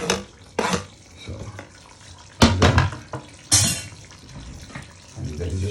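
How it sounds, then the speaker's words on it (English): Hot water splashes into a pot of curry goat in bursts, rushing and bubbling between quieter stretches, with stirring and faint pot clatter under occasional background talk. "add a little bit of hot water on top"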